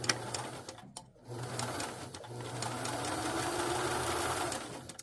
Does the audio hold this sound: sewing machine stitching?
yes